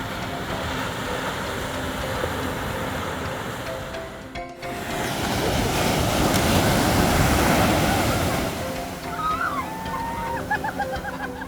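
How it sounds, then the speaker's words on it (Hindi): Loud ocean waves roll and crash continuously on Kovalam beach in Kerala, swelling in the middle. Faint bird chirps come in near the end. "सिर्फ लहरों की जोरदार आवाज़ सुनाई देती थी"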